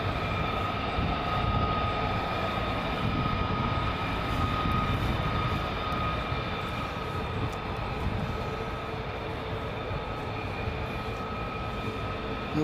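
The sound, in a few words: F-35 jets flying in to land at RAF Lakenheath at night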